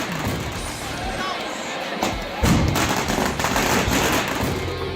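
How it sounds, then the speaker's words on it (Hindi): Dozens of guns fire in rapid, overlapping volleys in Churu, with sharp reports and heavy thuds cracking over a noisy crowd while people talk. "ताबड़तोड़ गोलियां चल रही हैं। एक दो नहीं, दर्जनों बंदूक आग उगल रही हैं।"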